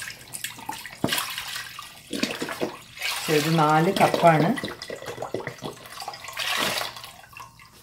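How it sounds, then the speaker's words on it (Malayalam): Stock being poured into a pot for a restaurant-style chicken clear soup, a splashing liquid stream heard under a voice speaking. "ഇപ്പോൾ നമ്മളിതിലേക്ക് നമ്മുടെ സ്റ്റോക്ക് ഒഴിക്കുന്നു."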